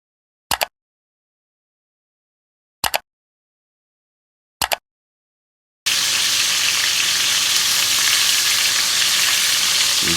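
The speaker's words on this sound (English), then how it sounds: "We're gonna add our chicken pieces now. Gonna fry these for about 5 or so minutes per side" Chicken pieces fry in oil for Jamaican fricassee chicken, first as three brief, isolated taps, then as a loud, continuous sizzle and crackle heard close up with no talking.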